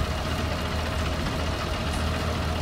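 Tractor engine idling in the farming game Irgendwo in Thüringen: a steady, low, rumbling drone with a faint knock, even and continuous throughout, no voices.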